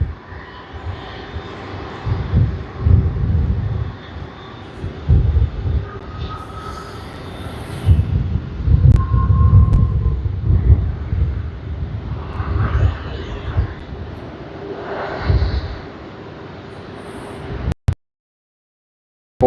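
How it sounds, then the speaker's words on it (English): Qantas Boeing 737-800 jet landing on runway 16L at Sydney Airport, a loud sustained engine roar and rumble that swells and fades across the whole stretch before cutting off abruptly near the end. "the next service is QF 733 Sydney to Adelaide service on the Boeing 737-800"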